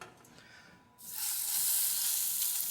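Halibut laid top side down into hot oil in a non-stick pan, a quiet hush suddenly bursting into loud, steady close sizzling that holds to the end.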